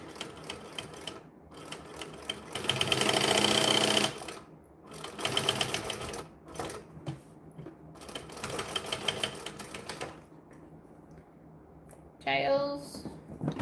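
Short bursts of a sewing machine stitching a bag, the longest a few seconds of rapid chatter, separated by pauses with handling clicks and a brief high squeak near the end.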